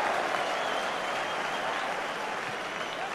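A rugby stadium crowd applauds in a steady, loud wash of clapping lasting a few seconds, with faint voices mixed in.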